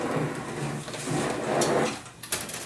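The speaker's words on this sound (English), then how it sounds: "you pull up and it releases two latches that hold that chrome door" Latches releasing as the chrome door of a Sankyo pachinko machine is pulled open, a few soft mechanical clicks and rattles, quiet and close, with a sharper snap near the end.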